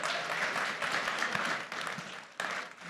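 An audience applauds the hosts of a crypto panel at a live event. Dense, steady clapping is close and continuous, then thins and drops off briefly before a final swell near the end.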